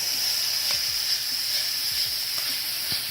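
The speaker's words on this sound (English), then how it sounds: "now after it's heated, we add our zazharka. Saute on medium heat" Zazharka sizzles in a couple of tablespoons of hot oil over medium heat for Ukrainian golubtsi: a steady, close frying hiss with no pauses and no voices.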